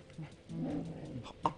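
Ghost dog in the video game Luigi's Mansion gives short whimpering, cooing yelps, a few brief near cries over about a second and a half, faint and close with no talk.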